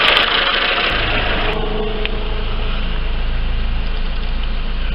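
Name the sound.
car engine idling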